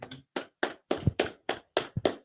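A group claps hands in unison during a brotherhood class, eight sharp, evenly spaced claps in a steady rhythm, close and fairly loud with no talking.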